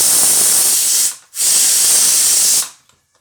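A pressure cooker holding masoor dal vents steam in two loud, forceful hissing bursts separated by a brief gap, then falls silent.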